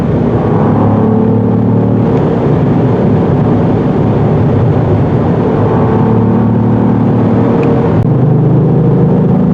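A 2022 Cadillac CT4-V Blackwing sports sedan's turbo engine and exhaust rumble loudly and continuously from inside the car, with a steady drone that shifts slightly in pitch.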